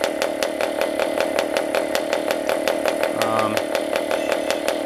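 A PAW compression-ignition diesel model engine running on a kerosene and oil mix, with a fast, even, buzzing rattle close by and a steady loudness.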